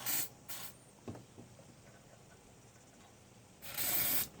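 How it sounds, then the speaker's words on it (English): Brake cleaner sprayed down the intake manifold of a Toyota MR2 engine: several short hissing aerosol bursts, two quick ones at the start and a longer blast near the end, with faint clicks between. "we'll stick some brake cleaner down the intake manifold"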